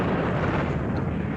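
A sustained, dense roar of an explosion from a Doctor Who episode fills the moment, loud and broadband with no distinct onset, like a continuous blast rumble from a Dalek battle scene.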